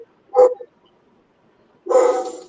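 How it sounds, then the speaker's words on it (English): A dog barks twice nearby during an open chat stream at home: a short sharp bark, a pause of over a second, then a longer, louder bark, with near silence around them. "Someone's barking."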